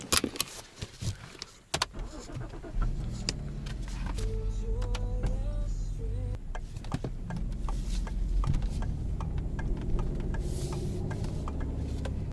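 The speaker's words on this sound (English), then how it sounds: "So let's go ahead and drive around a little." Inside a Ford being driven around the block: a few sharp clicks and knocks open the clip, then a steady low engine and road drone fills the cabin, with light rattles and bumps and no talking.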